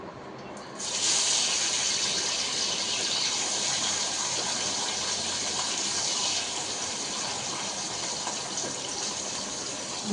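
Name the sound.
fish frying in refined oil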